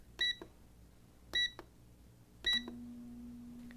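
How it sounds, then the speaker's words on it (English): Three short electronic beeps from an air fryer timer, evenly spaced about a second apart, each followed by a soft click, and then a low steady hum starts after the last one. "we place the chicken in an air fryer and set the timer."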